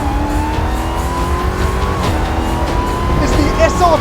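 2020 Dodge Challenger SRT Super Stock driving fast, a loud steady engine roar with a rising drone and a brief tire squeal near the end, close and continuous.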